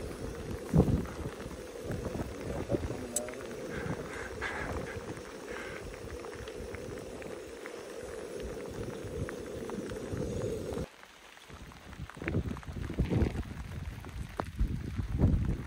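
Water comes to the boil in a pot on a camping stove outdoors during a hike in Norway, a constant rumbling, bubbling roar buffeted by wind noise that drops briefly before returning gustier.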